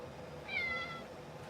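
A studio cat lets out one drawn-out meow, fairly faint, over a low steady background hum, with no talking.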